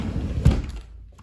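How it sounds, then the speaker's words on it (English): Screen door latch in a cabin closing with a single dull thunk, close and moderately loud, followed by quiet. "This just holds our screen door from it opening."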